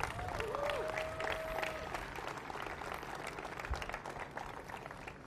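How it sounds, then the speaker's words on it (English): An audience applauds at the Audi Field ribbon-cutting ceremony in Washington, a steady wash of clapping from a sizable crowd with some faint voices mixed in, fading slightly toward the end. "Let's give John Garber a big round of applause."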